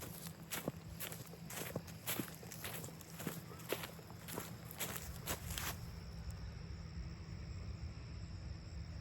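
Footsteps crunching along the edge of a soybean field at harvest, a steady run of close steps that stops partway, leaving faint outdoor ambience.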